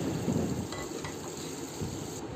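Chopped tomato fries in a pan with chili for a spicy dish, giving a dense, steady sizzle and crackle throughout, near and moderately loud, with no talking.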